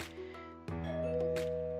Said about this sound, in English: My musings were interrupted when the doorbell rang.